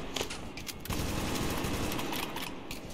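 Sustained gunfire in the shooter game Metro 2033 Redux: dense, rapid bursts that thicken into continuous automatic fire after the first second, loud and with no voices over it.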